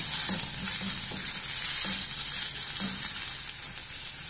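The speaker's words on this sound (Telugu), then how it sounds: "ఉల్లిపాయల్ని కొంచెం వేయించుకున్నాము." Onions and green chilies fry in a pan with a steady, bright sizzle, and soft periodic scrapes of stirring are heard close by.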